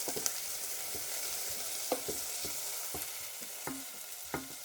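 Onion and garlic sizzling in a pan for a nettle, potato and chive soup, a constant bright frying hiss broken by a series of sharp scrapes and knocks as a utensil keeps the pieces moving.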